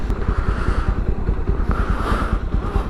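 A motorcycle rides a black-ice mountain road near Manali toward the Atal Tunnel, its engine thumping in a fast, even pulse, loud and close, with wind rushing over it.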